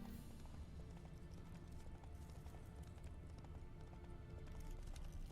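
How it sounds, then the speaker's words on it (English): Horse hooves in The Witcher 3: Wild Hunt, a quick, steady clip-clop of galloping on hard ground, clear and fairly close, set against a low game ambience. "Ahí está el caballo"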